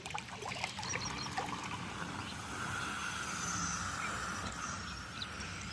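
Irrigation water runs steadily into a field plot of farmland, a continuous broadband trickling and pouring rush that stays even throughout with no talk.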